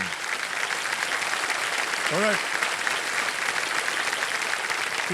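Steady, dense applause from a TV quiz-show studio audience fills the whole stretch, loud and continuous, with a brief voice rising over it midway.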